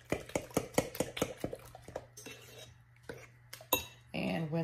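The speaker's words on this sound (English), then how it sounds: "we're going to go ahead and mix all this up" An egg casserole mixture for a tortilla breakfast bake whisked in a bowl, with a quick run of regular clinking strokes that slows into scattered taps, clatters and a brief rushing noise at the end.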